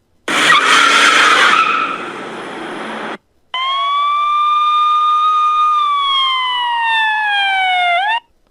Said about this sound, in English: turns on the lights and siren and floors it.